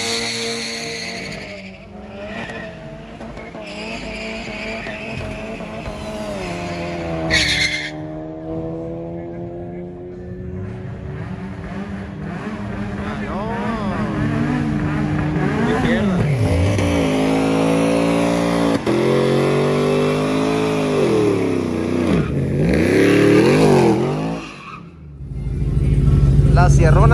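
Drag racing cars, a Honda Civic against an Audi, launch at the Culiacán racetrack, their engines revving loudly with rising and falling gear-change sweeps and tire noise, while people talk and shout over the roar.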